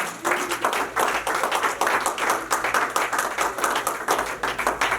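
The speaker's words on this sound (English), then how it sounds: "Come on, give me a big clap offering." A church congregation claps together in a steady, dense round, many hands sounding close and loud across the whole stretch, with no voices rising above it.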